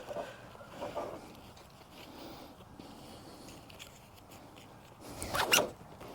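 Straps on a Rivian R1T tailgate pad being loosened, brief close zipping and rasping strap pulls with a louder burst near the end amid quiet handling noise.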